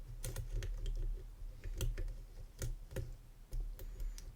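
Small metallic clicks from pins being set while a PacLock 900 padlock is picked under tension, several sharp ticks spread irregularly over a low steady background hum.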